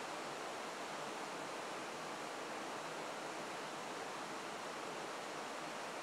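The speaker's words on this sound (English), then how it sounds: "then get the waterfall in the background surrounded by the trees." A waterfall in a wooded setting, heard as a steady, full broadband roar of falling water with no pauses, even and continuous throughout, with no voices over it.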